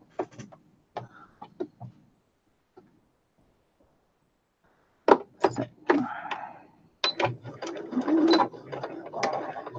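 A sewing machine stitches a patchwork pillow seam in short mechanical bursts, first a few light clicks, then a pause, then a stretch of steady whirring stitching at close range.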